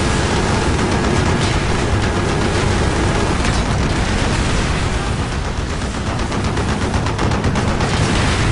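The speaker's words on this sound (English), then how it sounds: "Taking AAA fire from the deck!" Anti-aircraft fire pounds from a ship's deck during a helicopter assault in Call of Duty Black Ops, a dense continuous roar of rapid gunfire and blasts that stays loud the whole time with no talk.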